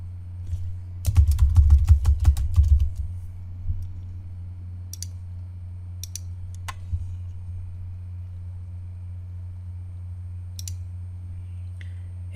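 Keys are tapped on a computer keyboard to enter a login username for a WordPress site, heard as a short quick burst of close clicks over a steady low hum, followed by a few isolated clicks.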